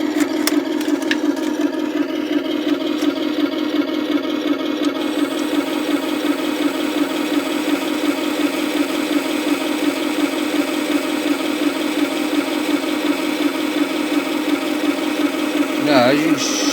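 A King Tiger model tank's engine runs at a steady idle with a constant low drone and mechanical clatter, close and loud, holding even throughout with a brief jump in level near the end.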